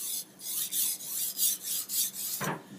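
A knife is drawn repeatedly across a sharpener, making about eight evenly spaced rasping strokes, close up and alone, with a short scrape at the end.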